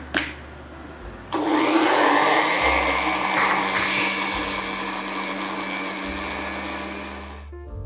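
Blender grinding coconut and spices into a smooth paste for chicken rendang, a loud steady whir starting after a brief click and running continuously until it cuts off at the end.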